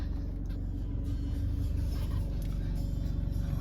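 A 2016 Jaguar XF 2.0d R-Sport automatic with a diesel engine idles close by, a steady low rumble with an even pulsing throb and no talk.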